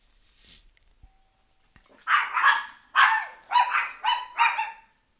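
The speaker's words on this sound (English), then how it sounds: "my doorbell just rang and my dogs got excited" Dogs bark at a doorbell in a burst of five loud, sharp barks in quick succession, close by, after a couple of faint earlier yips and clicks.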